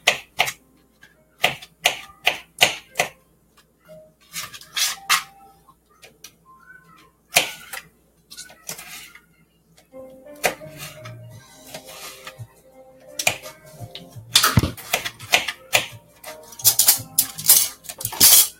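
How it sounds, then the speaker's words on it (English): Kitchen knife chopping tomatoes on a cutting board while making omelet meal prep, a run of sharp close taps in quick bursts separated by short pauses, with no talking. "those are my tomatoes nice and chopped up"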